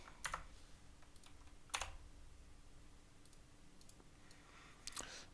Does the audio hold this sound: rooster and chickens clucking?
no